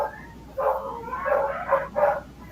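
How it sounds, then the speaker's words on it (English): Two huskies and a pit bull barking, a cluster of four or five sharp, close barks and yips in quick, uneven bursts. "That's 2 huskies and a pit bull."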